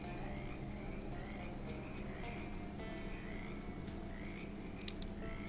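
Frogs in a video game swamp call steadily, a chorus of croaks and repeated rising peeps with a few sharp clicks. The calls sound close but soft and continue throughout with no talk.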